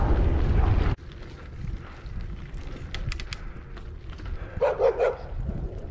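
Big dogs bark at cyclists on a rural road near Gainesville, Texas, a cluster of several barks toward the end. Heavy wind noise roars early, then drops to a steadier rushing hiss.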